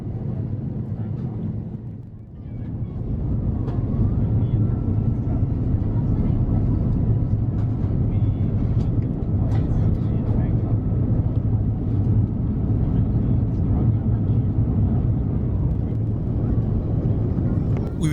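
A Philippine Airlines Airbus A350-900 on approach gives a steady, heavy low cabin roar with rushing air noise, dipping briefly near the start and then holding loud and constant throughout.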